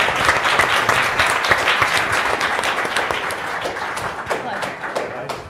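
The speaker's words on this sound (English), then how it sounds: "Let's give a big round of applause for the panel." An audience claps for a panel after an AI and intellectual property discussion, a lively burst of individual claps that gradually thins out, with some voices mixed in.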